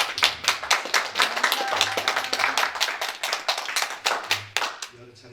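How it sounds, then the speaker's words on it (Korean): Church congregation at a Sunday worship service clapping in welcome, a dense run of individual claps with uneven rhythm lasting about five seconds before tapering off, with a voice faintly audible underneath. "우리 큰 박수로 환영하겠습니다."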